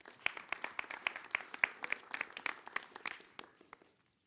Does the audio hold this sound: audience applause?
yes